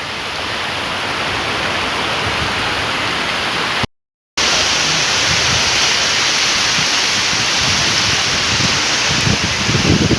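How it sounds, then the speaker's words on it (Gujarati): Heavy rain pours in a dense, steady, loud hiss, with a short break partway through before the downpour resumes unchanged. "વરસાદ આવ્યો છે ફૂલ."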